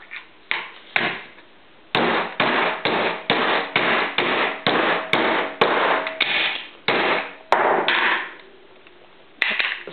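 Hammer blows striking an aluminium soda can, a rapid run of sharp metallic strikes in quick regular bursts with short pauses, close and loud, while a tea light holder is shaped from the can.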